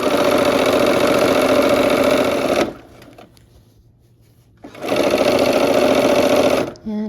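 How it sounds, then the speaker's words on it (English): Sewing machine with a quarter-inch foot stitching quilt block pieces together in two rapid, steady bursts of whirring stitches separated by a quiet pause of about two seconds, close and loud. "sew these together"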